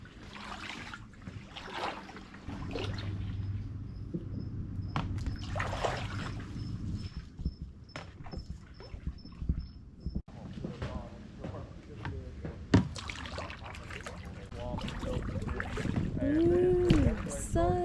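A kayak pulled by hand through a narrow mangrove trail in the Everglades: close water swishes, drips and knocks against the hull, with voices heard intermittently.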